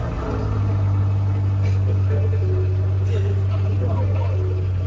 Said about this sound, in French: je vais vous faire un démarrage à froid